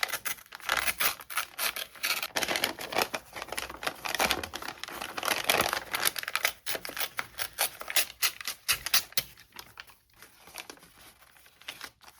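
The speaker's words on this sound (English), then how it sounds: "So I think I'm going to tear down the middle here" A paper bag is torn down the middle by hand, giving a long stretch of crisp crinkling and ripping with irregular bursts of rustle, close and moderately quiet, with no talking.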